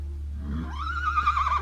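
A horse refusing to enter a trailer gives a single rising whinny, clear and fairly close, over a steady low hum.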